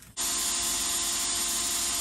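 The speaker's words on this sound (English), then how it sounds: "I'm going to start drilling out that hole." An electric drill bores steadily into a broken turbo exhaust manifold bolt, starting abruptly and then holding a loud, continuous high-pitched whine and grind close up.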